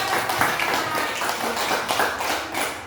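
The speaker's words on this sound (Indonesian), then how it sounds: "Tepuk tangan untuk kita semua." Students in a classroom clap their hands together, a brief, busy patter of overlapping claps heard at a moderate distance.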